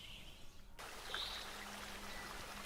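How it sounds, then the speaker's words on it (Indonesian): A rushing river makes a steady, fairly quiet hiss of flowing water that continues without a break, with a faint bird chirp partway through. "tiba-tiba ia mendengar suara aliran sungai yang sangat deras."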